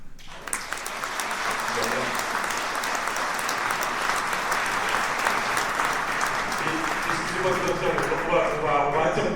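A crowd at a Rassemblement national municipal campaign rally in Belfort gives sustained, thick applause that swells and holds steady, with a voice starting up near the end.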